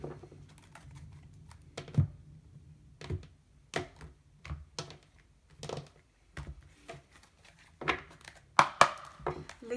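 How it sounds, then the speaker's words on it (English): A deck of tarot cards being shuffled and cut, a series of crisp slapping clicks and riffles at irregular intervals, close and fairly quiet. "just going to do one more shuffle and then we'll cut up the deck"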